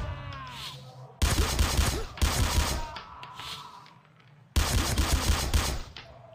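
Gunfire in the tactical shooter video game Sierra 7, with sharp, loud bursts of rapid shots in separate volleys and quieter pauses between them.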